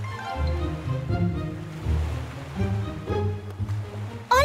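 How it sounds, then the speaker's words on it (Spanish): Violent sea waves in a cartoon scene with an angry sea king, a loud continuous rushing surge of water with rolling swells throughout, and a brief bright burst at the very end. "¡Por eso las olas son tan violentas!"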